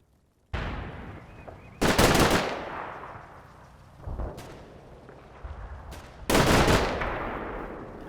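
Gunfire from Puma infantry fighting vehicles in the video game Combat Mission Red Thunder: several loud, heavy bursts of cannon and machine-gun fire, each followed by a rumbling decay, separated by brief quieter stretches.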